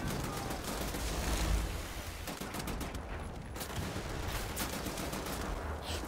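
Rapid assault rifle fire in the Wolfenstein: The New Order shooter, a dense, sustained automatic burst at close range filling the scene with steady, loud reports.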